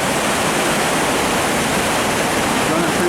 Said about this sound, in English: I think this is like the Urubamba River.